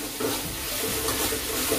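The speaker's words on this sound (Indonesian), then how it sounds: "Kita masukin terinya. Kita aduk." Sambal teri, small anchovies in chili sambal, sizzling in a frying pan while being stirred, a steady close hiss with light scraping throughout and no talk.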